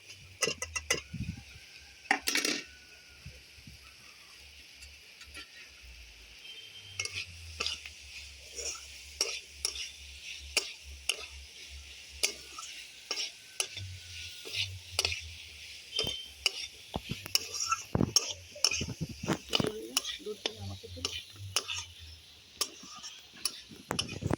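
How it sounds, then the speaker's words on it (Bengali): Shelled river snails and potatoes stir-fried in spice paste, quiet sizzling broken by frequent sharp spatula scrapes and clinks against the pot, fairly close and uneven in rhythm, no talking. "এবার মশলার মধ্যে গুগলিটা দিয়ে কষিয়ে নেব"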